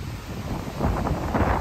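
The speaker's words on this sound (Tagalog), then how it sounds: "It's our day 2 and medyo malakas ang hangin." Strong wind on a Boracay beach buffeting the microphone, a continuous rough low roar that swells and grows louder toward the end, with no talk over it.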